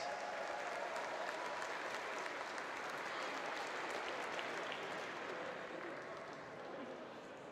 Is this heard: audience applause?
yes